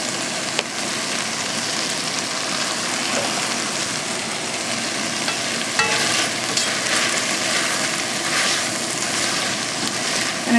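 Sausage and peppers with thyme, black pepper, salt, garlic powder and a bay leaf sizzle steadily in a pan, a continuous crackling hiss with occasional stirring clatter.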